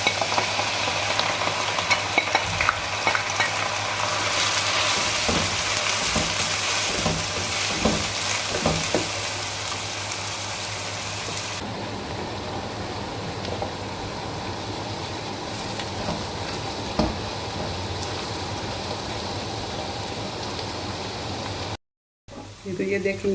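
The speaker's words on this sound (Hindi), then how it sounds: "तो ये सरसों का ऑयल है, गर्म हो गया होगा तो मैं अपने प्याज इसमें डालती हूँ।" Onions frying in hot mustard oil, giving a loud, steady sizzle with occasional stirring scrapes. The sizzle is strongest early, then eases to a softer crackle, and ends with a brief cut-out.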